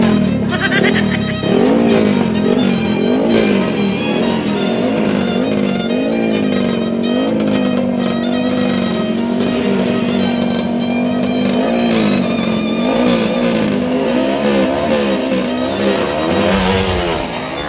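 Trail bike motorcycles rev hard and continuously at a legal drag race in Bayawan City, including a BRT Racing bike, with loud, close engine whine rising and falling throughout.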